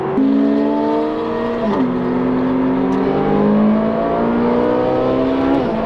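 A high-revving Ferrari supercar engine screams steadily, its pitch climbing through gear shifts with brief dips between, loud and close throughout.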